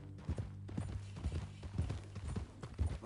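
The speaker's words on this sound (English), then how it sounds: "That a new horse?" Horse hooves clip-clopping in Red Dead Redemption 2, a steady run of close, loud hoofbeats over a low continuous hum, with no talking.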